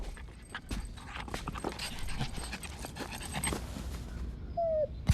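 Dog panting in a TV commercial, quick rhythmic breaths close to the mic with soft scuffling and clicking underneath, fairly quiet, ending in a brief squeak and thump.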